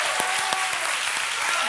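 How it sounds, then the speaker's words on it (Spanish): A studio audience on a Spanish television talk show claps loudly and densely in a brief burst, with a few sharper individual claps standing out. "Un aplauso para él."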